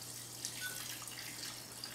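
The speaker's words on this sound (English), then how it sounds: "We're just going to pour that water off into a vessel that we can use at a later date." Liquid drained off black cherries for sauce is poured into a vessel in a kitchen, making a quiet, continuous trickle with a few soft drips.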